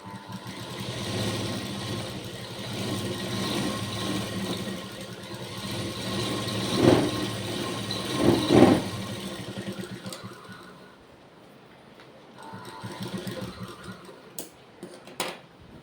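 An electric sewing machine runs in steady bursts, stitching a fold and joining the border of a child's Paithani saree into a Mastani Navari saree, its motor whirring loudly before easing off into quieter, intermittent stitching near the end.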